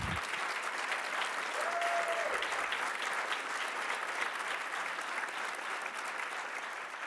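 An audience at a mayoral press event applauds Metropolitan Police Department members standing with the chief. The clapping is steady and dense, moderately loud and sustained for about seven seconds, with a brief faint tone early on.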